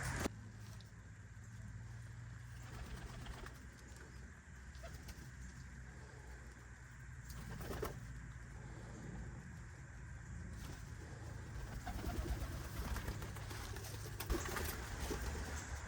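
Pigeons and doves in a homestead aviary, with soft low cooing running steadily through the clip under a constant background hum and occasional faint rustles and pattering.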